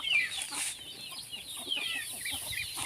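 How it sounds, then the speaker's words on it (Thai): Farm chickens cluck in a quiet yard, short repeated clucks and soft calls overlapping in an irregular stream, fairly faint and unaccompanied by talk. "อยู่กับไก่นี่"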